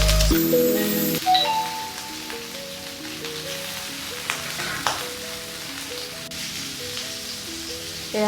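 Pork frying in its own rendered fat with no added oil, giving a steady crackling sizzle that runs throughout, close and moderately loud over background music.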